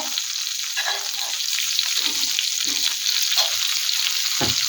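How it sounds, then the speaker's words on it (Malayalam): Kerala-style prawns fry steadily in a pan, a continuous bright sizzling hiss with occasional pops and a soft scrape near the end, close and even throughout without talk. "നന്നായി ഫ്രൈ ആയിട്ടുണ്ട്."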